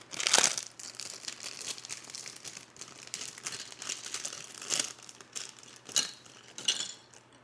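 Scissors cut out paper shapes at close range, giving quiet, irregular crinkling and snipping with a few sharper cuts and rustles scattered through, and no talking.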